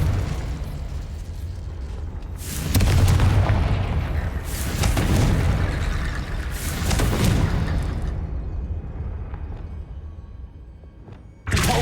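Confringo spell blasts in the Hogwarts Legacy video game, several heavy booming impacts spaced a couple of seconds apart with rumbling tails, loud and close, then fading to quieter background before a final sharp hit.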